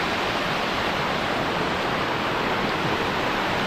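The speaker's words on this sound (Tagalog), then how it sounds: "Taas ng agos ng tubig mga katropa." Gabur Gabur Falls pours with a steady, loud roar of rushing water, a dense unbroken wash of white noise heard up close with no voices over it.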